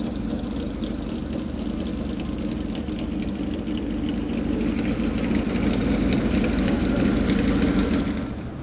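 Several historic race car engines idle together in an endurance race lineup at a classic car festival in the Algarve, a steady low rumble that stays loud and continuous, swelling slightly toward the end.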